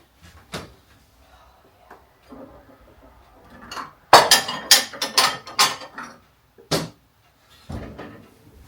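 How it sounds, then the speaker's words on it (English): An egg is cracked into a container with a cluster of sharp, close clicks and knocks, surrounded by scattered handling clatters and a few quieter taps in an otherwise quiet room. "Let's crack it into something first."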